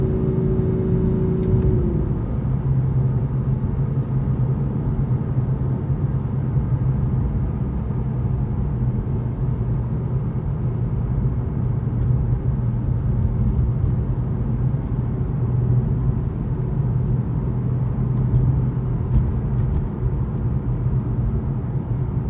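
A 2015 BMW M4 accelerates out of corners, its engine a loud, continuous low drone that shifts pitch early on then holds a steady pull, heard from inside the car with no talk.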